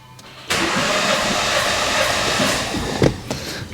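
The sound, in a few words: Mini Cooper S engine cranking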